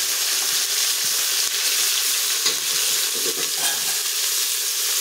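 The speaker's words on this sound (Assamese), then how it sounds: "এইখিনি অকণমান লৰাই লওঁ।" Chopped mixed vegetables for khichdi frying in a pan, a dense, even sizzle running throughout with soft stirring scrapes and light clatter close by.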